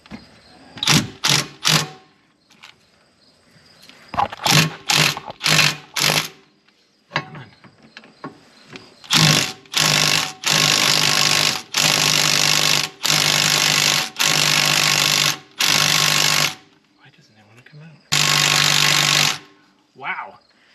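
A power tool hammers at a tight bolt on a Subaru Legacy GT rear Brembo brake caliper in loud, close bursts, first several short rapid hits and then longer sustained rattling runs separated by pauses.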